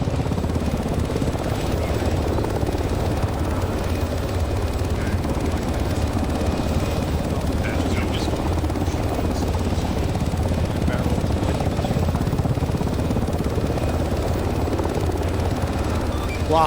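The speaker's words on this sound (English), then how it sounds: "ground command's trying to get in with the helicopters" Steady thudding rotor drone of a game helicopter, close and constant throughout, with no voices.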